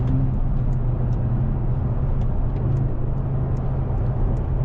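A Mercedes-AMG CLE 53 coupe with about 449 PS, driven on the road, its engine giving a steady smooth drone under constant tire and road rumble, with no speech over it.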